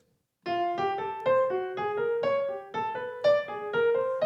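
Jazz piano runs an ascending chromatic cycled pattern in swung eighth notes, a quick steady chain of clear single notes stepping upward by half steps, solo and close with no voice.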